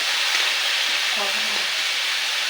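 Breadfruit pieces stirred in a hot pan for a Konkan-style vegetable dish, giving a steady close sizzle and frying hiss with soft scraping of the stirring, continuous throughout with a faint voice briefly underneath.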